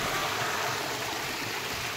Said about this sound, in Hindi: ऐसे गदर यहाँ से पानी बहता है, तो कितना साफ पानी आता है।